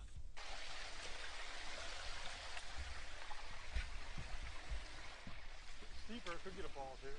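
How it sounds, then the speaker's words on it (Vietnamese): Constant rushing wash of a creek flowing near the Niagara Escarpment, an even close-up water noise that carries on throughout, with a voice briefly heard near the end. "Một con lạch."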